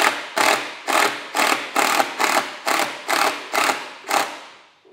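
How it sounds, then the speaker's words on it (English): During a boat installation, an impact driver starts screws in about nine rapid, evenly spaced rattling bursts, loud and close, the last one tailing off. "Now I'm just going to use an impact driver to start the screws."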